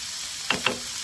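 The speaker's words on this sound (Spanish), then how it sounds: "Vamos a que se siga sofriendo un poquito más." Sofrito for arroz negro sizzles in a pan under a steady broadband hiss, with two brief scraping taps close together near the middle.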